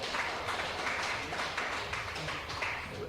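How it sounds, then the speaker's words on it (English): Applause from a small audience during a 1984 radio interview with a Chicago jazz DJ, a steady patter of clapping that stays fairly faint and even for a few seconds. "I need the applause too."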